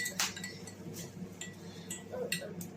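A spoon clinks and taps against a glass while turmeric is stirred into water, giving several light irregular clinks over a low background hum.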